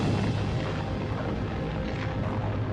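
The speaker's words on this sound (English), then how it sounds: "A similar sized nuke at the testing at Bikini Atoll" A nuclear bomb test blast at Bikini Atoll rolls out as a loud, sustained low rumble and roar with no distinct peaks, steady for its whole length with no voices.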